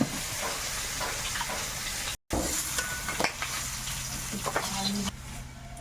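Black cumin seeds sizzling in hot oil in a pan, a continuous close hiss with occasional faint stirring or crackling, broken by a brief dropout midway, and steady to the end.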